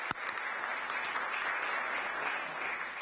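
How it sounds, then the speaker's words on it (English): A parliamentary chamber gallery breaks into applause for a guest, a steady wash of many hands clapping at moderate distance, fairly quiet and even, opening with one sharp close knock. "maybe we can clap for her again"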